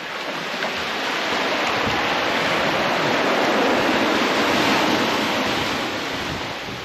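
Steady, full surf roars on a beach in Lagos, Portugal, as ocean waves wash in continuously at high tide, loud and close, with some wind noise on the microphone and no voices.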